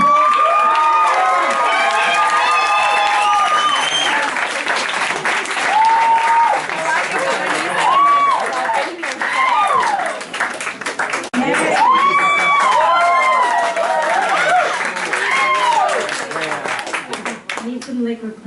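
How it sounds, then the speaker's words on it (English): A comedy club crowd at a Halloween stand-up night claps and cheers for a comedian taking the stage, a sustained roar of dense clapping mixed with whoops and shouted voices rising and falling over many seconds. "Give her a round of applause."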